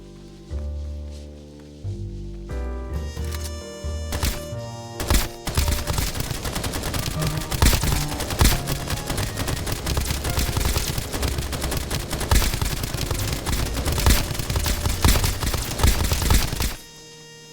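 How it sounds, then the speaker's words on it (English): Sustained automatic gunfire from a gun in the video game Escape From Duckov, a loud, dense burst of rapid shots lasting over ten seconds after a few sparse opening shots, then stopping abruptly. "Time to try out this gun."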